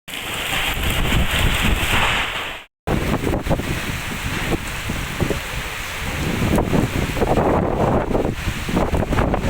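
Strong storm winds in a coastal Konkan town roar and buffet the microphone in loud, continuous gusts, with rain mixed in and a brief dropout near the start.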